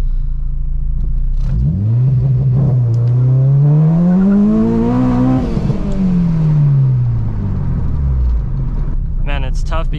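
Acura RSX Type S held on a two-step at 4,000 RPM, then launched hard on a sloped surface, the loud close engine note climbing steadily through the revs before dropping away.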